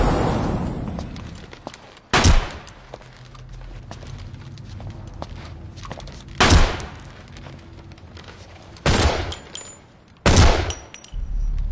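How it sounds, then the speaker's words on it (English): Video game combat with a rocket launcher and gunfire: four loud, sharp blasts spaced a few seconds apart, each punching out over a steady backdrop of crackling fire and rumble. "Oh, he have a rocket launcher."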